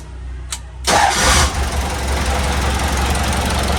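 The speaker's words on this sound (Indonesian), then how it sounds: "Nyalain mesin deh." An old truck's engine cranks briefly and catches with a loud burst, then settles into a rough, knocking idle close by.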